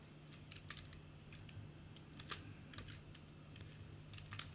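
Quiet computer keyboard typing with irregular bursts of soft key clicks over a faint background hum, no speech.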